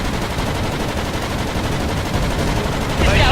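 Machine guns rattle nonstop in the WWII flight video game Blazing Angels, a dense, loud, continuous stream of fire over the drone of aircraft.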